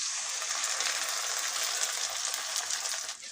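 Paste of tomato, green chili, ginger and garlic sizzles loudly as it fries with golden onions for a poached egg curry, a steady dense hiss that holds throughout and eases slightly at the end.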